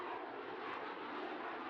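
An F/A-18 E/F Super Hornet jet on afterburners gives a steady, loud, broadband roar that holds constant with no break, flying slowly at low speed.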